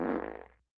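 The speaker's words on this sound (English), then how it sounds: "This fart sound." A short fart sound effect played from a novelty sound button: one close, buzzy burst that sputters into a few quick flutters and fades out within a second.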